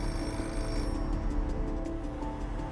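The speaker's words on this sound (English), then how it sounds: "the phone rings" A telephone rings shortly after midnight in a London home in 1973, a steady electronic ring held continuously over a low background hum with no voices.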